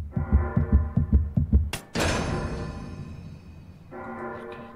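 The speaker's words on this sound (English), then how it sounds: "make a heartbeat sound" Heavy heartbeat thumps in the Nakwon Last Paradise video game, about seven low, evenly spaced double beats in quick succession, then a sudden burst of broadband noise and a sustained droning hum.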